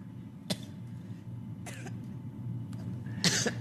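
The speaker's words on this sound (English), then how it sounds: "I hear you coughing today." Three separate coughs from a woman break through a quiet low hum, spaced apart, with the last one the loudest.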